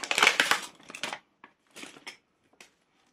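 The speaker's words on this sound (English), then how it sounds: "I meant to open all these pouches before the video" Plastic cash pouches tearing and crinkling open up close: a rough burst of ripping at the start, then several short, faint rustles separated by pauses, with no talking.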